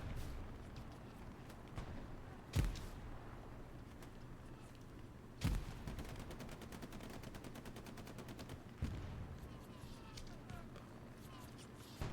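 Machine gun crossfire in a war video game: steady rattling automatic fire runs throughout under game ambience, punctuated by three sharper heavy impacts spaced a few seconds apart, all fairly faint and distant.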